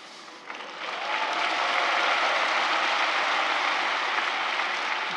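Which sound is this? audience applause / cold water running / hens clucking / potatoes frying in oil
audience applause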